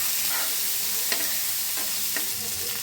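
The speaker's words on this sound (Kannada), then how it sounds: "ಇವಾಗ ಎಣ್ಣೆ ಹಾಕ್ತಾ ಇದ್ದೀನಿ. ಚೆನ್ನಾಗಿ ಬೇಯಬೇಕು. ಇವಾಗ ಟೊಮೆಟೊ ಹಾಕ್ತಾಯಿದ್ದೀನಿ. ಇದು ಕೂಡ ಚೆನ್ನಾಗಿ ಬೇಯಬೇಕು." Tomatoes fry in hot oil in a pan for a capsicum curry, giving a continuous close sizzle with a few soft scraping stirs of a spoon, and no voices.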